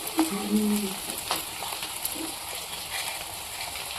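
Egg chowmein noodles frying in a hot pan give a steady close sizzle with a few scrapes and stirring knocks, fairly quiet throughout.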